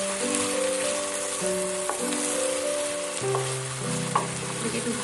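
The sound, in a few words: sliced onions frying in a pan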